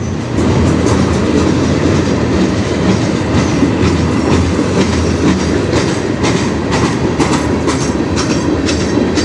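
A freight train made up of many tank cars, a lot of them new, rolls steadily past close by on the Strathroy Subdivision, with loud continuous rumbling, wheel clatter and rhythmic clickety-clack filling the whole stretch.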